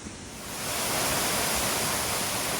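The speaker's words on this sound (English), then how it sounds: "We made it back to the main waterfall" A waterfall in Shenandoah National Park gives a broad, steady roar of falling water that swells up within the first second and then holds loud and constant.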